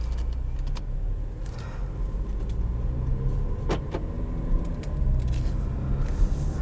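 Cabin of a 2017 Infiniti QX30 Luxury on the move: a steady low engine and road rumble fills the interior, with a few brief clicks and rattles over it and no talking.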